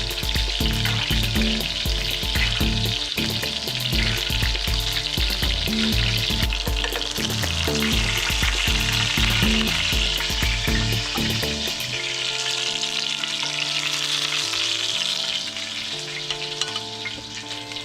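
Filet mignon steaks sizzle loudly and continuously in a hot pan while being basted with fat, with music playing throughout.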